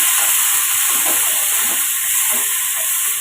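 Cut tomatoes and a dried chili sautéing in a pan for tomato chutney, a loud, even hissing sizzle with faint stirring scrapes underneath.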